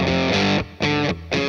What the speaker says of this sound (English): so you can get an Epiphone Les Paul starting at 200, which sounds like this.